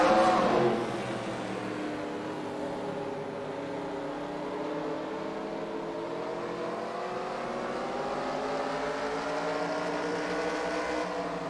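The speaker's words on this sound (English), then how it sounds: "Green flag is out. We are racing with the Modifieds." Modified race cars take the green flag at Spencer Speedway, a swelling chorus of engines whose pitches rise and sweep together as the pack accelerates, loud at first and then a steady layered roar.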